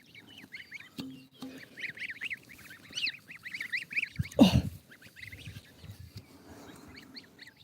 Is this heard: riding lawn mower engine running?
no